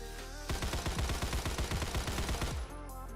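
Rapid SMG gunfire from the Phantom Forces video game: a fast, steady burst of roughly twenty close, loud shots lasting about two seconds, set over a constant game background hum.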